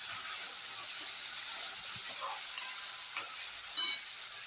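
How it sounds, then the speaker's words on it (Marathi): Onion and tomato fry in oil in a home kitchen pan, a soft steady sizzle and hiss with a few brief stirring scrapes toward the end, fairly quiet and close with no talk. "तो पण चांगला तेलात फ्राय करून घ्यायचा आहे."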